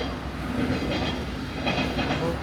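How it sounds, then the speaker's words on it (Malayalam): A train rolls past near Wardown Park, a steady rumbling roar with faint rhythmic wheel clatter that swells slightly, with a little background voice. "ട്രെയിൻ"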